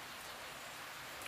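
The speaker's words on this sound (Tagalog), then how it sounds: "Umulan na siya." Steady rainfall, a soft continuous hiss of drops on surfaces, faint and even with no voices.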